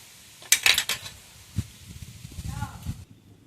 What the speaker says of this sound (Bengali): এটাও কিন্তু ময়দার সঙ্গে ভালো করে মিক্সড করে নেব